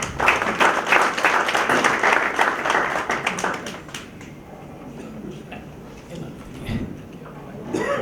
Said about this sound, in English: acknowledging and appreciating both of them with a big round of applause